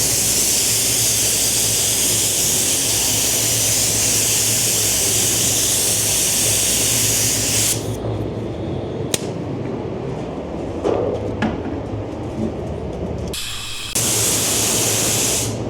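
A spray gun lays down a second coat of colour-matched paint on a Lamborghini Revuelto, a steady loud hiss running continuously, then breaking into shorter bursts with brief pauses before resuming.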